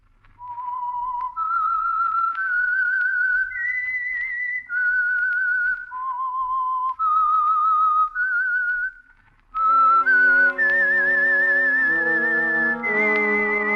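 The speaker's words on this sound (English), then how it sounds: "That whistle is your signal for the Signal Oil Program" A lone whistled melody carries the opening theme of The Whistler radio drama, clear and close, with a run of sustained notes that rise and fall before a fuller orchestral chord passage joins near the end.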